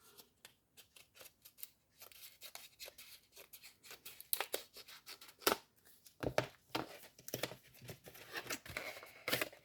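Scissors snip and cut through the packaging of a product bought at Noz, a rapid series of crisp, close cuts mixed with paper rustling and tearing, with no talking.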